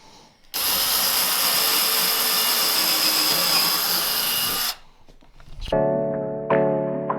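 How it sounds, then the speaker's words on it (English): A power drill bores pilot holes into wood while a green press is being set up, a loud continuous whine for about four seconds that stops abruptly, followed by brief tool sounds and a steady tonal hum. "we're going to drill pilot holes that way we're not cracking wood"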